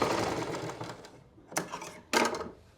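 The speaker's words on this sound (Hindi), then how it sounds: "अब यहाँ का भी हमें ये कोना इसमें सिलना है।" A sewing machine stitches a side pocket onto a pair of pants, running in a close whirring burst that slows and fades, then two short sharp bursts of stitching follow.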